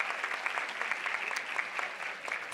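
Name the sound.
applause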